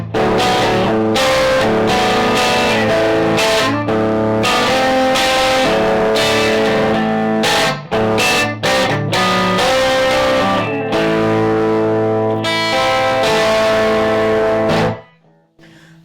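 Electric guitar played through an Egnater Silversmith Overdrive Boost pedal: loud overdriven chords and riffs with short breaks, ending in a quick fade to silence.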